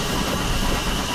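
An LB&SCR Terrier steam tank engine running, a loud, close, continuous mechanical rumble and hiss with rail noise and no clearly separated chuffs.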